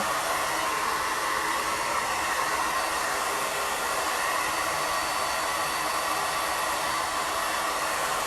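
A hair dryer blows steadily over a handmade craft piece, a loud, close, unbroken rushing whoosh that runs the whole time with no talking.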